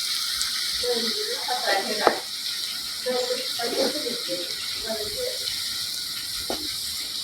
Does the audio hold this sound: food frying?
yes